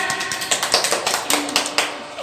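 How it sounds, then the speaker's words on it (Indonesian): A grade 4 class claps hands in a classroom, with a series of sharp, fairly close claps at an uneven rhythm and a faint voice in the background. "Dah, tepuk tangan."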